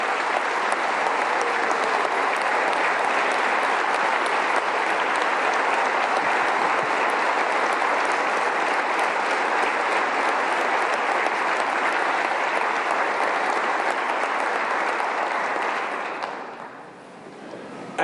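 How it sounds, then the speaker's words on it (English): Audience applause at a State of the State address, loud sustained clapping from a large crowd that holds steady for about sixteen seconds before tapering off. "Please give all these folks your heartfelt applause."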